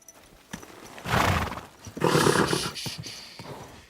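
A horse in Kingdom Come Deliverance II snorts and lets out two loud whinnies, with hooves clopping close by between the calls.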